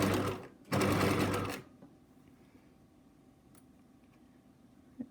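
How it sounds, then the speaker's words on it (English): Sewing machine running a zigzag stitch at width 5 and 2.5 stitch length on a single layer of fabric, two loud bursts of motor whirr close up, then a quiet room with a faint tick. "when you're stitching with just one layer of fabric, the machine doesn't like it"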